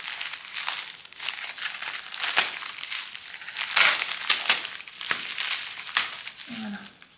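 Scissors cutting open a plastic-wrapped parcel from an online haul, with close, crinkly snips and crackles of packaging coming in bursts, and a brief soft voice near the end.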